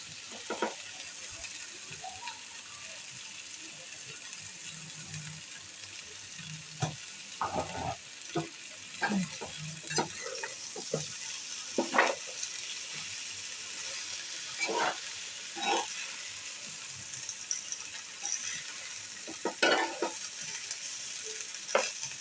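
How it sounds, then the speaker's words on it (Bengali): Large pieces of cabbage frying with hilsa fish in a pan, sizzling steadily while a spatula stirs them in repeated scraping strokes that come at irregular intervals, fairly close and clear, with no talking. "টুকরাগুলিকে দিয়ে আমি কিছুটা নেড়ে চেড়ে দিব।"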